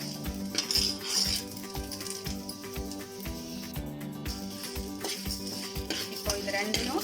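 Coriander seeds and dried chillies dry-roasting in a pan, stirred with a metal spoon that scrapes and clinks rhythmically against the pan, close and steady.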